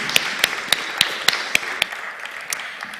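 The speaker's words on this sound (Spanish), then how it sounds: "Un aplauso, por favor." An audience at a public event in Sangüesa, Navarra giving applause, heard as sparse, evenly spaced sharp claps, roughly three per second, close and fairly loud with nobody talking.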